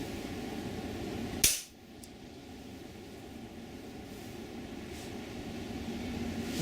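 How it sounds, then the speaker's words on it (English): A single sharp report from an FX Royale .22 air rifle firing a Crosman Premier pellet on low power at 35 yards outdoors in cold weather, one crisp crack standing out over steady background noise, then quiet hiss. "shooting on low power at 35 yards with Crosman Premier."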